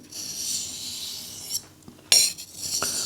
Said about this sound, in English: just try and slice the top off the sharpening stone